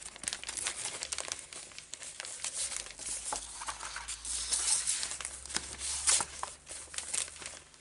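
Designer paper for a four-flap card is handled close by, crinkling and rustling continuously, with occasional sharper crackles and tearing-like sounds.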